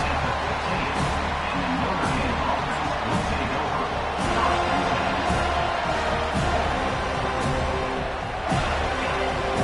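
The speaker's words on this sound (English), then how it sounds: "They challenge this crowd to bring the energy, and I'd say they're doing that." Football stadium crowd at an opening kickoff, a broad, steady roar of cheering voices that swells slightly midway and continues throughout, distant and dense without clear individual shouts.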